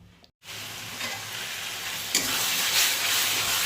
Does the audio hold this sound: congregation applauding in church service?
no